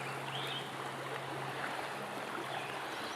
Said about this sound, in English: I've never seen the river like this violent.